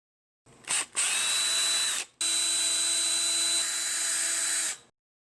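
A cordless power driver backs out screws from the body cover of an ARRMA Typhon 2S Mega 4x4 RC car, giving a short whir, a pause, then a steady high whine lasting a few seconds, close and loud.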